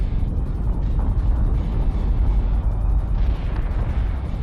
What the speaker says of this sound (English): And here comes the wall of torpedoes I was worried about.